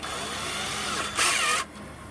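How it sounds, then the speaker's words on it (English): Power drill whirring as it spins an oak dowel wrapped in sandpaper, a steady motor whine that surges louder in a brief burst near the end, no talking. "I've got my drill and a little stick. It's actually an oak dowel with a piece of sandpaper."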